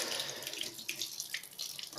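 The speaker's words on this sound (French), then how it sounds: "on prépare un petit peu d'eau pour le remplissage futur. Donc, de l'eau du robinet" Tap water runs steadily into a container, a continuous bright splashing rush with small bubbling variations, alone and fairly close, as hard, chalky water is readied for filling a Malawi cichlid fry aquarium.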